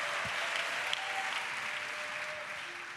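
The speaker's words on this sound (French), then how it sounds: "Let us clap for Jesus." A congregation at an evangelism school gathering in Abidjan claps together in sustained, dense applause for Jesus, a steady wash of hands filling the room.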